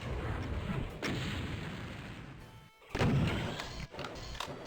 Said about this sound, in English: Let's use some rockets.